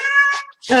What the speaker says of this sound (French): Alors je crois que vous entendez un de mes chats miauler.